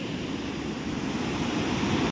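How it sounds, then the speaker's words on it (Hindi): Waterfalls along the mountain trail to Hemkund Sahib rush in a steady, dense roar of falling water, even and continuous throughout with no voices over it. "वह ये प्यारे से झरने आ रहे हैं ऊपर से श्री हेमकुंड साहिब की तरफ से"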